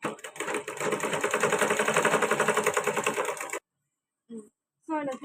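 A sewing machine stitches blouse fabric in a steady, loud, fast mechanical rattle for several seconds, then stops abruptly, and a voice follows briefly.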